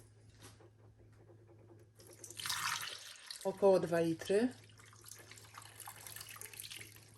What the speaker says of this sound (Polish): To wszystko zalewam wodą